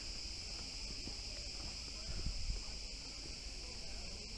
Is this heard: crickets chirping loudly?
yes